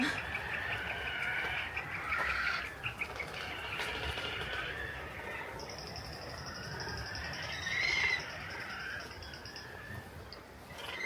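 Many seabirds calling at once over steady wind noise, a dense chorus of cries and chirps at moderate distance, with no talking.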